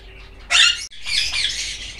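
Ringneck parakeets in a breeding setup give loud, harsh squawks, one sharp burst followed by a longer rasping call after a brief break, close by with no talking.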